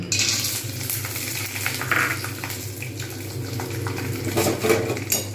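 Peanuts frying in hot oil after crispy potatoes, a loud constant sizzle and crackle with stirring scrapes and clatter in the pan.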